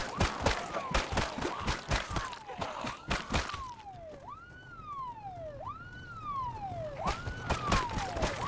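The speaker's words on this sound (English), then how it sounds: "naturally I turned on my siren, let it go off, and started letting the zombies collect." Vehicle siren in Project Zomboid, a loud wailing tone rising and falling in repeated sweeps, over a backdrop of rhythmic thumping and steady background noise.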